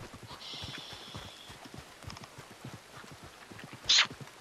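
Rapid, even hoofbeats of a galloping horse in the video game Red Dead Redemption 2 continue throughout, with a brief sharp high squeal near the end.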